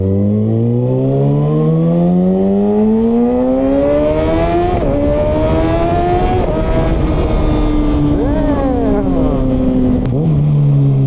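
A sport bike's engine revs up and down repeatedly, with rising and falling whining pitch sweeps that stay loud and close throughout, with no talking.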